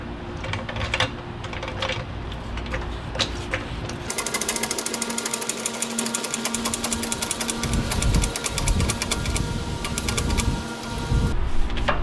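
A lift raises a Dodge Dakota off the ground, giving a loud, continuous mechanical whirring and rattling drone with a rapid repetitive clatter, close and unbroken, its tone shifting partway through.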